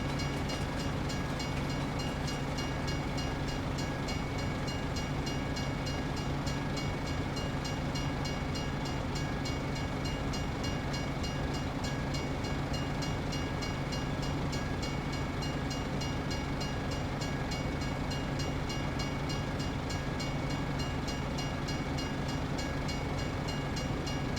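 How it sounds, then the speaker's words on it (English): In Farming Simulator 25, a train rolls past with a continuous loud rumble and a steady mechanical drone that never lets up, and no one speaks. "Guess we will wait for the train."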